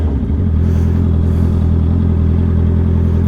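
A new motorcycle being ridden, its engine giving a loud, steady low rumble up close, with wind and a faint rattle over the top and no talking.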